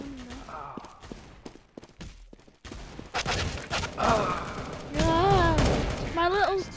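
Video game gunfire crackles in rapid bursts and scattered shots, with a voice talking over the first half and louder action sounds building near the end.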